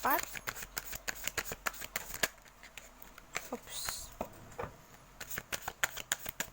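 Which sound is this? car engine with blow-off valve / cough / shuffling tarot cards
shuffling tarot cards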